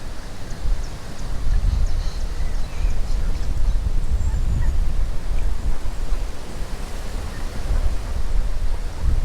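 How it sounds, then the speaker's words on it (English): Young ducks calling across a fishery lake, a steady noisy wash of outdoor ambience with faint, scattered quacks and calls mixed into the background for several seconds. "There's a lot of ducks today. Young ducks."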